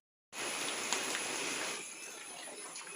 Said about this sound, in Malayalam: മഴ കൂടുതലായിട്ടൊന്നുമില്ല കേട്ടോ.